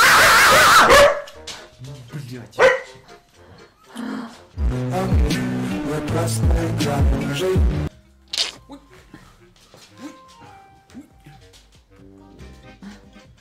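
A dog barks in a few short, loud bursts near the start, then people talk over a busy indoor room.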